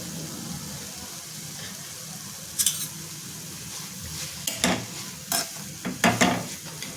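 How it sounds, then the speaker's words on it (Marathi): A vegetable and salt are stirred together in a pan, a steady low sizzle under scattered spoon scrapes and clinks that grow more frequent toward the end; no one speaks. "सर्व मिक्स करून सुट्टा करून घ्यायचं आहे त्याच्यामध्ये मी मीठ टाकून घेते"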